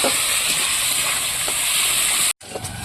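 Chopped onions frying in oil with whole garam masala, a loud, dense, steady hiss of sizzling close by that cuts out briefly near the end before resuming.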